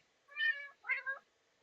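A cat cries out in two clear, close meows, the first drawn out and the second shorter with a quick rising break, set against near silence.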